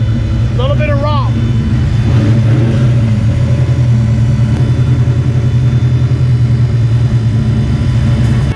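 Ford Foxbody Mustang with a junkyard 8.8 rear axle, its engine rumbling and revving up as the car accelerates, a steady loud low drone with people talking over it.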